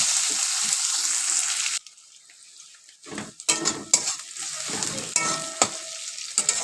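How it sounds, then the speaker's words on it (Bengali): Finely chopped onions sizzle and fry in hot oil in a home kitchen, with a steady hiss that drops away briefly, then returns under repeated clinks and scrapes of a spoon stirring the pan. "পেঁয়াজগুলো লাল লাল করে ভাজা হয়ে গেছে"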